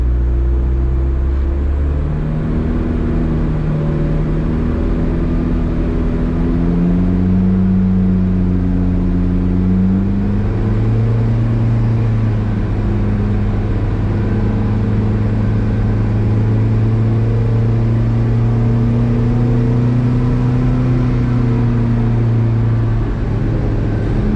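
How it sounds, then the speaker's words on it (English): A car engine under load on a dyno in 4th gear is revving steadily upward toward 3,500 RPM. It makes a loud, continuous drone with a rising pitch, heard alone at close range. "so I'm in 4th gear, foot off the clutch, foot's on the throttle, so I'm under a bit of load."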